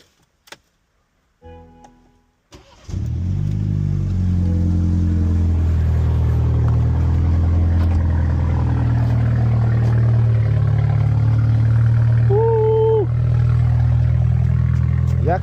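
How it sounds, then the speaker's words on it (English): A BMW G20 engine with a misfire cranks and catches after a few clicks, then settles into a loud, rough idle with an uneven, stumbling rumble. "hear the difference in how the car starts and it goes like the idle's loud at first once it started"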